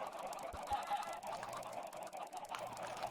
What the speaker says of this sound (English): Is this loud for you guys, all these chickens?